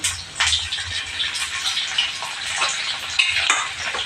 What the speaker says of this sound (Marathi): तर हे पण चांगलं परतून घेणार आहोत लसणीचा रंग बदलेपर्यंत आपण परतून घ्यायचं आहे